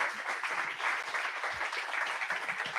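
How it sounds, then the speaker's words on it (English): Audience at a talk gives a short round of applause for a speaker, a dense wash of clapping filling the room without a break, moderately loud. "An applause for him."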